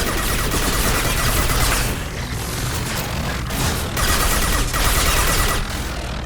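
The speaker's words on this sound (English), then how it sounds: "let's do submachine gun" Submachine gun fire in the Mass Effect 2 game, with sustained dense rapid automatic bursts broken by brief pauses, loud and continuous, no talk.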